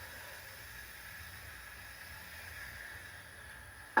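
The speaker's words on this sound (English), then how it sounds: "I'll go ahead and add a little bit of vegetable broth so I can start sauteing these vegetables" Vegetables sautéing in a splash of vegetable broth give a faint, steady, soft hiss throughout, ending with a sharp click.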